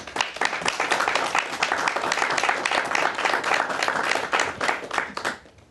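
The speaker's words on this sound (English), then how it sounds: "From our in-studio audience, a nice warm applause for your candidates" A studio audience at a debate between state representative candidates for the 26th Middlesex District gives steady, warm applause that holds evenly, then fades out at the close.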